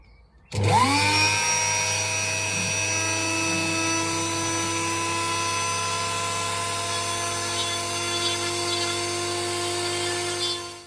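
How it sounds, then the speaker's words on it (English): A Dremel with a burr bit routing a wooden guitar body spins up sharply and keeps up a loud, steady high-pitched whine close by, with some grinding underneath and no talking. "for the next stage I've got a little Dremel burr"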